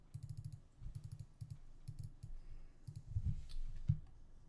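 Computer mouse clicks come in quick clusters of several taps with short pauses during an online card game, close and crisp against a quiet background.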